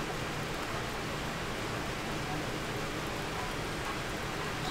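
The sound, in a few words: rain falling in a Minecraft modpack video game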